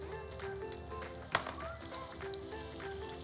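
Lamb pieces sizzle as they brown in a hot pan, a soft continuous crackle with a couple of sharp clinks from utensils, fairly quiet and close.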